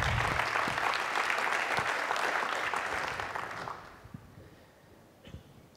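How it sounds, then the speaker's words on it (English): Audience applause for panel guests at a tech keynote panel discussion, a dense sustained clapping from a crowd that fades out after about four seconds, leaving near silence with a few stray claps. "Round of applause for them."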